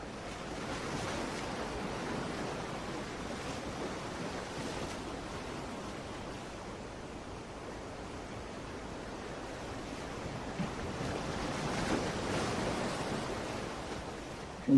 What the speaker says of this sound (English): the rhythm of those waves just letting you feel peace